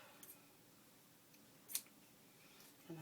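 Scissors make a single crisp snip through paper cut for a junk journal signature binding, close and quiet in an otherwise still room.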